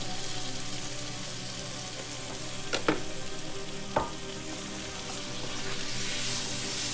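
Meat, celery and onion frying in a pan, with a steady hiss of sizzle throughout and a couple of brief scraping stirs of a utensil partway through.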